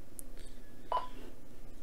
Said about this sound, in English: And you hear the rig beeping.